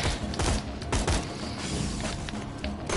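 Tommy machine gun firing in the Borderlands 2 video game, a few quick bursts of gunfire mixed with mechanical clatter and thuds, moderately loud with no talking.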